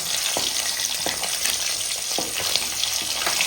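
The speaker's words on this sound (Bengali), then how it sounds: "এই দেখুন বাকি মাছটাও ভাজা হয়ে গেছে" Koi fish (climbing perch) frying in hot oil in a pan, giving a steady, close crackling sizzle with scattered sharper pops and spits throughout, no voices.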